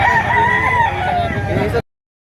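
A rooster crows in one long, loud, close drawn-out call that stops abruptly, with a little background murmur at a market where chickens are offered for sale.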